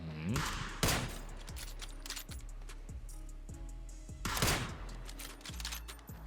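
PUBG gunfire: two loud bursts of rapid automatic shots, about three seconds apart, with sharp echoing reports and a lingering rumble between.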